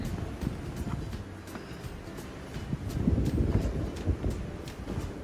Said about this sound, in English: It's a little windy today, not as much as yesterday.